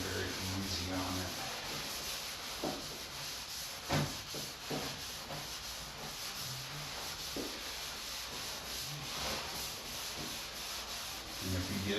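Wet sanding scrubs across a primed wood surface in a steady, close rubbing rasp with uneven back-and-forth strokes and occasional brief knocks.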